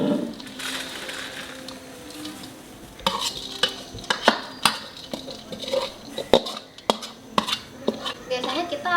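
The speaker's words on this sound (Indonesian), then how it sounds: "Biasanya kita di wajan itu diaduk sampai dia udah agak kering" A utensil scrapes and clacks against a wok in steady, irregular strokes, stirring a thick mixture close by, with a faint sizzle underneath.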